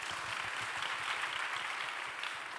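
A church youth group claps together, a brief steady wash of applause from a room full of people, moderately loud with no voices over it.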